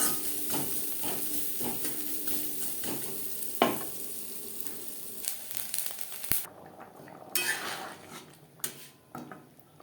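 Grated coconut with turmeric and salt fries in a pan, a steady hiss and sizzle broken by scraping stirs and a few sharp clinks of the spatula against the pan.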